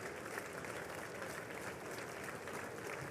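Steady, dense applause from the crowd at the 2023 State of the Union address fills the chamber evenly for a few seconds, with no clear speech over it.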